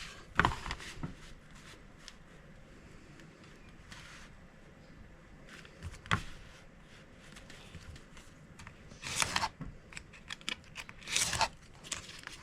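A knife cutting a paper bag being made into a faux leather journal cover: quiet, scattered scraping and tearing strokes, with several sharper, louder cuts toward the end.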